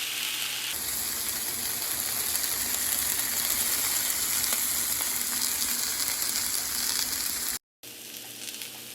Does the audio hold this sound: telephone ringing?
no